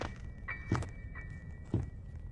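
Digging in the Roblox game Granny: two soft, dull thuds about a second apart, each preceded by a faint click, over a low steady background hum with no talking.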